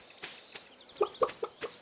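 Chickens clucking on a farm in the video game Stardew Valley, a short run of soft, evenly spaced clucks and pecking taps, faint and close, with no voices.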